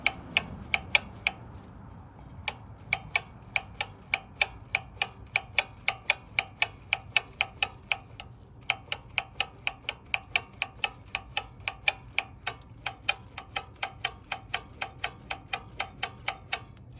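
A Honda Trail125 CT125 throttle is snapped open and closed against its stops, making a steady run of sharp, close plastic clicks at a regular rhythm, with a few short gaps.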